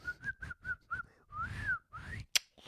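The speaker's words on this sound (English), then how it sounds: "if you keep pressing the button, he goes like, he does a bunch of different whistles" A cowboy in Red Dead Redemption 2 whistles for his horse, a string of short rising whistles followed by one long sweeping whistle and a couple more, close and clear, ending with a sharp click.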